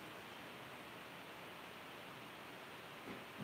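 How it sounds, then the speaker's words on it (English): White noise plays from a tablet as a faint, even hiss that stays steady throughout, with no voices. "I need my white noise in the background."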